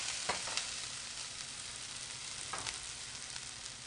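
Onion sautés in a pan as spinach gets started, a soft, steady sizzle with a couple of faint utensil taps, fairly quiet and without voices.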